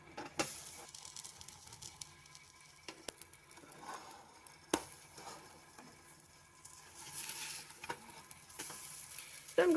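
Vegan pancakes cooking on a griddle give off a faint, uneven sizzle and patter, broken by a few light taps and scrapes, with no voice.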